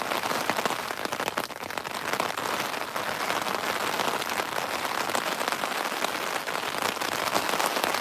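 Heavy rain pours down steadily beside the water at Martham Staithe on the Norfolk Broads during a coarse pole-fishing session, a dense, unbroken hiss with no pauses and no voices.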